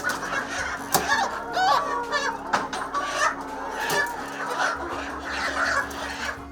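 A crowd of poultry birds on a farm, part of a flock of 1,100 being debeaked, clucks and squawks continuously at close range, with overlapping calls and occasional sharper cries over a low mechanical hum.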